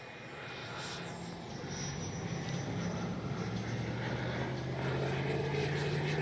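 A Freewing 80mm F-5 Tiger II RC jet flies overhead on a sunny afternoon, its whooshing turbine-like roar swelling over the first two seconds and then holding steady and loud.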